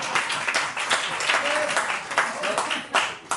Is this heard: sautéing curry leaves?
no